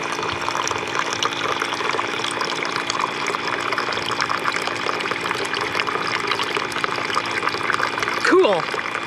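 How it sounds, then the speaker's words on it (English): Steady running water hisses continuously throughout, with a voice briefly speaking near the end. "We got water."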